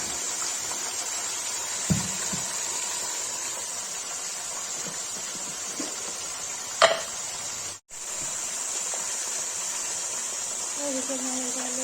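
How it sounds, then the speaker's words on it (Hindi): Mutton frying in a pan gives a steady, moderately loud sizzle and hiss throughout, with a few brief clinks or knocks and a short drop-out near the end. "गाइस मटन फ्राई के लिए रख दिया है, उसे नमक डाल के इसको ढक देंगे"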